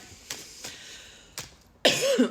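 A person coughs, a few short dry coughs followed by a louder, harsher one at the end, close by.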